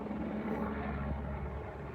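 A loud helicopter overhead, its continuous low rotor and engine rumble sitting close and steady with no gaps, with no voice over it.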